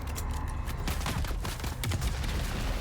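Enemy gunfire in the video game Dune Awakening, a dense continuous burst of rapid shots and crackling impacts at steady loudness throughout, with no talking.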